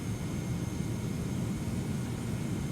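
A TFDi 717 airliner rolls for takeoff in the Prepar3D flight simulator, producing a steady, loud engine roar with a low rumble and no talk.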